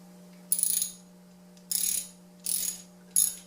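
A socket ratchet on an ARP head stud of a 3SGTE engine clicks out four short bursts of rapid pawl ticking, close and crisp, separated by brief pauses over a faint steady hum.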